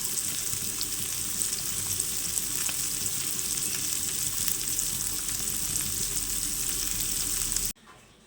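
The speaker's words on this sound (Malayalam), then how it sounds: "ഇനി ഞാൻ പൊരിക്കുന്നുണ്ട്" Continuous crackling sizzle of small river fish coated in turmeric frying in hot oil, steady and close, cutting off abruptly just before the end.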